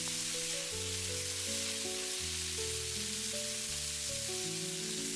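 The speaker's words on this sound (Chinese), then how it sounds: "接下來把切好的薑蒜片直接倒在鍋中，快速翻炒均勻，把苦瓜炒出蒜香味" Ginger and garlic slices stir-fried with bitter melon in a wok make a continuous soft sizzle, partly masked by louder background music.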